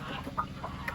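Soft clucking from chickens, several short calls scattered over a faint steady background, fairly distant.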